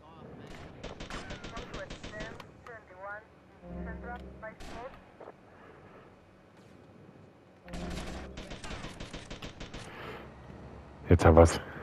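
Gunfire through a fence in GTA Vice City, loud bursts of rapid shots in two clusters with a sharp final blast near the end, alternating with quieter stretches of game sound and talk.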